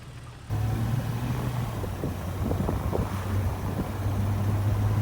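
A Jeep TJ driving along an open road, its steady low engine drone and rumbling road noise continuous after a brief quiet start, with wind buffeting the microphone throughout.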